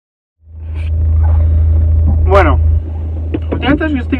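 A steady low engine rumble fills a car interior while it drives, continuous and close, with people talking over it.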